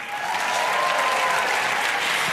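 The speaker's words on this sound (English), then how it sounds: "can we get one more big applause for our two amazing musicians?" An audience applauds two musicians at an award ceremony, a dense steady wash of clapping that stays loud and even throughout, with no voices on top.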